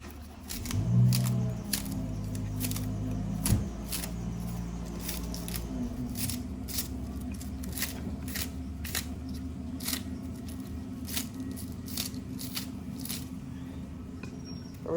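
Scallion being chopped into small pieces on a board for a Jamaican breakfast, a run of sharp, close knife taps at an uneven rhythm, with a low hum and some handling noise beneath and no voices.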